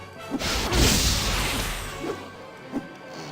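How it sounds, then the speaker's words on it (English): Magic missile spells hit in a Baldur's Gate battle: a loud whooshing crash, a sustained roar and then sharp impacts that come back in two later thumps. No one speaks. "Keep the magic missiles coming"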